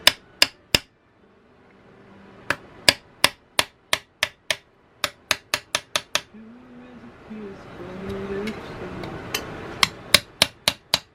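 Sharp metal knocks and taps from a pry bar working loose a firmly gasket-stuck cover on an Onan CCKA engine, in irregular bursts of close, loud strikes with quieter scraping and faint voiced sounds between.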